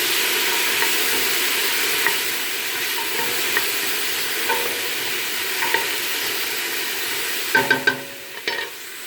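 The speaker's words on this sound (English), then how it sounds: "Now we're going to add the carrots." Carrots join a mirepoix for Tuscan ribollita, sizzling in a pan with a steady, even hiss; a few light stirring taps come through and a louder clatter of utensil knocks lands near the end, with no talking.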